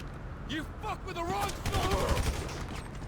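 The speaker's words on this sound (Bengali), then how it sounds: "আমাদের তো কড়াভাবে ফায়ার দিতেছে ভাই" Rapid gunfire crackles from a GTA 5 shootout, with a voice talking over the shots throughout.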